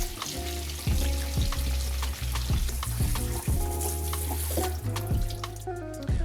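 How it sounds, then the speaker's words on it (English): Cold tap water runs steadily over strained rice noodles for pad si ew in a kitchen, making a continuous splashing hiss under a light musical backing, with no speech. "We'll strain the noodles and run constant cold water to cool them down so they don't overcook."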